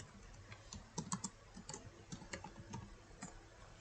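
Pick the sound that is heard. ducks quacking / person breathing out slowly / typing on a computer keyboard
typing on a computer keyboard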